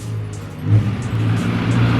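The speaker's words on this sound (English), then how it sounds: "As Jason pulls out his Cosworth" Jason's Cosworth pulls out nearby, a low engine rumble that swells briefly as the car moves off, heard alone for about two seconds.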